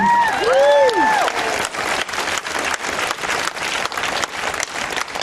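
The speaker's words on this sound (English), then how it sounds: "What a terrific crowd." A large crowd at a political rally in Victoria applauds loudly and continuously, with a brief whoop or whistle near the start over the dense clapping.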